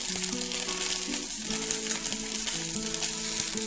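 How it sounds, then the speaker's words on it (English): Asparagus fries in oil on a stovetop with a dense, steady sizzle while it is stirred around the pan, the crackle loud and close throughout without speech. "you'll just want to stir them around like this. Get them coated in the oil and such."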